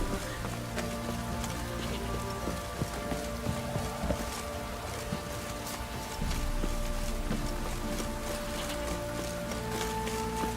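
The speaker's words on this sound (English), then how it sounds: "This downpour's a bastard" Heavy rain pours down during a downpour in the video game The Witcher 3, a dense continuous hiss of drops hitting surfaces, with faint low rumbling beneath.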